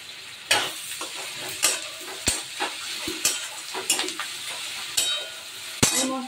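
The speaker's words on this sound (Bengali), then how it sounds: "একটুখানি হিং দিয়ে দিলাম, রসুনটা দিয়ে দিলাম, আর দিয়ে দিলাম কারি পাতা।" Asafoetida, garlic and curry leaves frying in a pan, a steady sizzle broken by repeated sharp clinks and scrapes of a utensil stirring against the pan.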